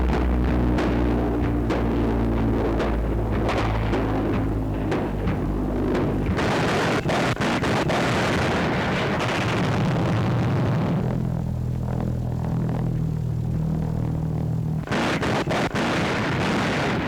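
Anti-aircraft guns fire at a flying bomb in archival wartime newsreel sound, with a dense, sustained barrage of booming bursts and rumbling explosions that continues without a break.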